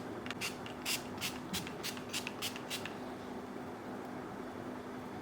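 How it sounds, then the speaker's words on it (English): Sunscreen mist is sprayed onto skin in a quick run of about eight short, close spritzes, followed by faint steady background hiss. "I'm gonna spray this on my skin and show you that it does not move the makeup."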